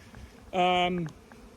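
A single harmonic buzz swells up loudly for about half a second, then fades, like a honeybee flying close past near a hive amid quiet background.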